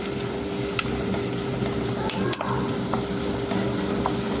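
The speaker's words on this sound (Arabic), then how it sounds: "هقلب بقى البصلايه احمرها كويس" Onion fries in a pan while being turned, giving a loud continuous sizzle with scattered light scraping and clicking from the stirring.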